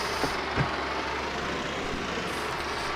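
A tractor engine in Farming Simulator 22 settles into a steady low idle, a continuous rumbling drone with a couple of brief knocks near the start and no talk over it.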